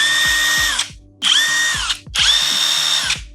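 A GISAM 1800Nm cordless impact wrench spins freely in three loud bursts, each with a whining motor that rises in pitch and then winds down, separated by short pauses, very close up and with no talking.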